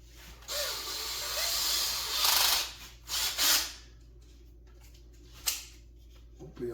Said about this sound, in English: So now let's drill that out.